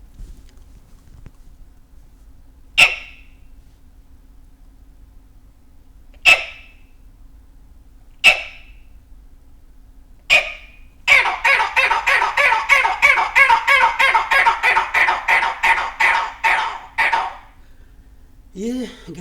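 A man imitates the call of a grey partridge, first with four sharp, isolated calls spaced a few seconds apart, then a loud, rapid run of harsh repeated notes lasting several seconds before a final short sound.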